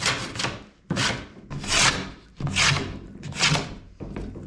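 A hand planer shaves a bowed old board during repairs to a rotted 1970s house, giving five rasping, scraping passes in an even rhythm, each swelling and fading up close.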